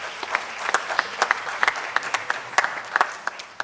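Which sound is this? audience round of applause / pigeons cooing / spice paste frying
audience round of applause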